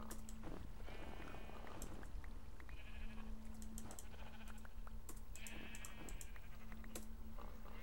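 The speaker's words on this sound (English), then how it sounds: "Shut up, sheep." Minecraft sheep bleating in a video game, several short repeated bleats over a steady game background with clicking keyboard taps, no talking.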